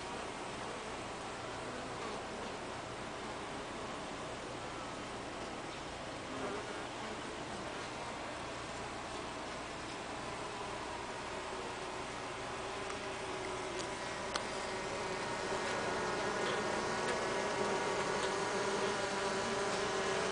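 Dense, steady buzzing of honeybees inside an organic beehive in June, a continuous close drone with no voices, swelling slightly louder toward the end.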